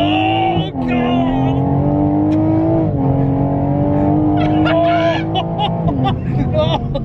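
A modified 550 bhp Toyota Supra engine revs hard close by, pitch climbing through gears with brief drops at shifts, while excited voices talk over it.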